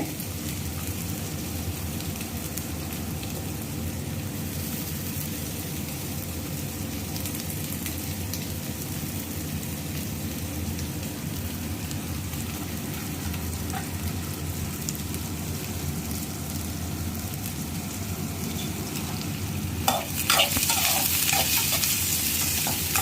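Medium-size onions, crushed garlic and curry leaves sauté in a pan for a fish curry, a steady close sizzle like rain on a surface, with a louder stirring clatter near the end and no talking.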